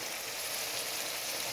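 Meat is added to spice paste frying in oil, giving a steady, bright sizzling hiss that holds level throughout, close and moderately quiet, with no voices.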